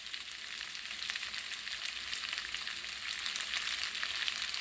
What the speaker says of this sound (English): you should be hearing like a nice sizzle